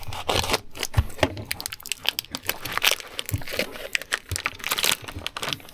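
Dog treat packaging is torn open by hand at a dog-friendly campsite, with close, irregular bursts of crinkling and ripping plastic over several seconds.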